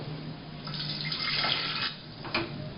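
Water pours into a pressure cooker holding lotus root, making a steady splashing, running stream at moderate volume over a low background hum that swells, eases and then ends with a brief final splash.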